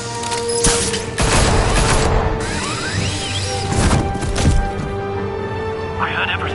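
Gunfire in Batman: The Telltale Series: loud, sharp gunshot cracks and crashing impacts come in several bursts amid a tense score, with voices shouting in between.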